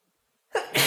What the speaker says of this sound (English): I feel a sneeze coming up.